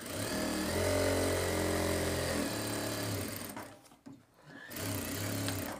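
A sewing machine stitches a shirt collar in one long continuous run, its motor whirring with a steady buzzing tone, then pausing briefly before starting again, close and without talk.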